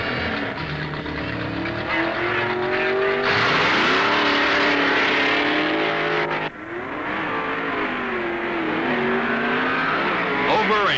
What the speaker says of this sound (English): Plymouth's newest full-time pro, Don Grother of Oklahoma City, pits his automatic Hemi Barracuda against Southern Californian Wiley Cossey.